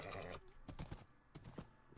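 Hooves of a spawned, saddled horse in a fantasy video game clip-clop in a quick uneven rhythm of several close, crisp impacts, fairly quiet and heard alone.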